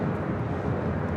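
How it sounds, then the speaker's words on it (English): A United heavy airliner from Tokyo Haneda arrives on the north side of Los Angeles International Airport, heard as a steady, continuous engine roar throughout. "Our next arrival here on the north side is United 38 Heavy coming in from"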